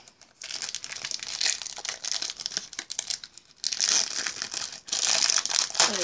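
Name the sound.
opening a foil packet of football trading cards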